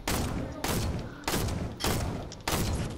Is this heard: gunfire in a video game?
yes